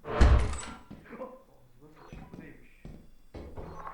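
A door opens in the co-op horror game Lethal Company with a sharp, close thunk right at the start, followed by softer movement sounds as people talk over the rest.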